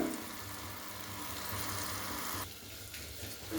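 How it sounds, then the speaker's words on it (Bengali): Chopped onion, ginger and garlic sauté in a pan for a chicken stew, a soft continuous sizzle with a low hum beneath, dipping quieter for a moment before picking back up. "হালকা করে ওই পেঁয়াজ আদা রসুনের ইয়েটাকে সতে করে নেবো একটু হালকা করে"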